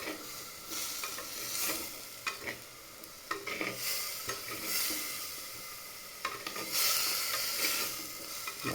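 Chicken masala stirred and frying in a clay pot, with a steady sizzle and repeated scraping stirs at an irregular rhythm, heard close up and with no talking.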